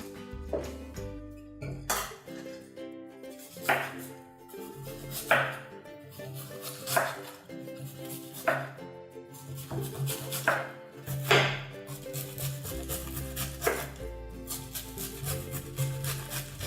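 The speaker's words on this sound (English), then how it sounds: "We are going to start by cutting the cabbage into thin slices." A knife slices cabbage into thin strips for sweet cabbage with smoked pork ribs, giving slow, spaced chopping thuds against a board, roughly every second or two, under steady background music.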